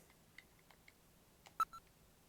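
Video phone dialing tones from the Snatcher video game: a few faint soft beeps, then one loud, clear tone and a shorter follow-up beep near the end, with no talk.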